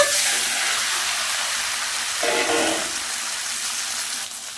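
Taro pieces dropped into hot oil already holding green chillies, dried red chillies and mustard seeds: a loud, steady sizzle with a fresh surge of frying when the taro hits the pan, then a settling hiss.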